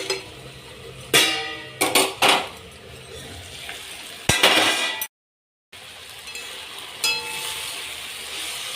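A fenugreek leaf vegetable dish stirred in a pan after steaming: several sharp metallic clinks and scrapes of a utensil against the pan over a soft sizzle, with no talking.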